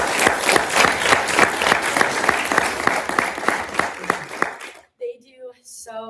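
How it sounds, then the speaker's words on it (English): Round of applause at a senate meeting for departing members, dense steady clapping from a room of people for about five seconds before it stops and a voice starts speaking. "If we could give them a round of applause."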